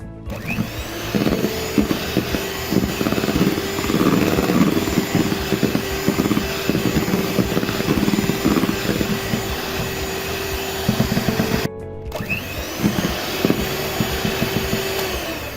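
Eggs with a pinch of salt being beaten in an electric mixer for a vanilla sponge cake, a loud, steady motor whir up close that cuts out briefly near the end and then resumes.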